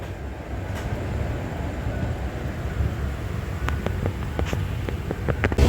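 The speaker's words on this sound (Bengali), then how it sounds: "ট্রেন ছাড়ছে মেচেদা স্টেশন" A long-distance express train pulls out of Mecheda station in West Bengal, a steady low rumble of wheels and carriages rolling close by, with scattered sharper clanks and rattles building toward the end.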